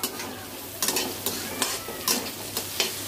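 A spoon scrapes and stirs a medium tomato into lightly cooked potatoes in a sizzling pan, producing about half a dozen rhythmic scraping strokes over a continuous frying hiss, close up with no voices.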